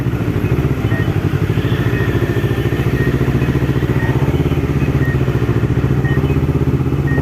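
Kawasaki ZX25R motorcycle with a 249.8 cc DOHC 16-valve inline four-cylinder engine, running at a steady, loud, even drone with a fine rapid pulse and no breaks, heard close with no talking.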